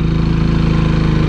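A Legend150 motorcycle's 150cc engine pulling away in third gear gives a loud, steady, close-up drone with an even pulsing beat throughout.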